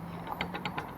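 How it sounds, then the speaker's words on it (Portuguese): Rattling knocks from a worn half-shaft bearing in a Honda Civic G10 suspension with excess play: a quick series of light, faint metallic clicks in close succession. "Olha a folga que tá esse rolamento. Aí, achado o barulho."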